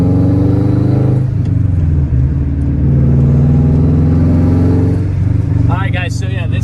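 A Subaru WRX with a Tomei exhaust is driven and heard from inside the cabin, a loud deep droning rumble that rises and falls with throttle, with a person talking over it.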